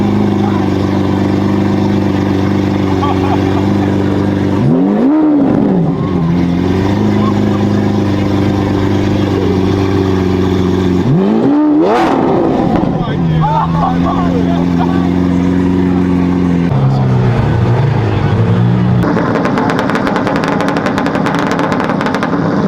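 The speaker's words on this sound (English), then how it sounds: "The Lamborghini is idling louder than the..." A Lamborghini engine rumbles loudly at close range, holding a steady idle broken by several sharp revs that rise and fall, with the throttle blipped repeatedly near the end.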